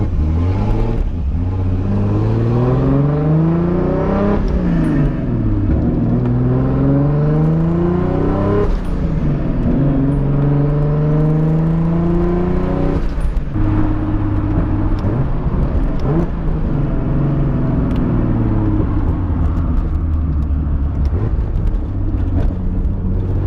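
A car with its RB30 engine swapped for a Toyota 2JZ drives along, heard from inside as a loud, steady engine drone that repeatedly climbs through the revs and drops with gear changes, with no talking.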